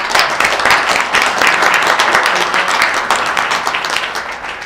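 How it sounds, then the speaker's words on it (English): An audience applauds panelists at a mental health talk with loud, dense clapping close by that gradually thins and fades toward the end. "Let's give them a big round of applause."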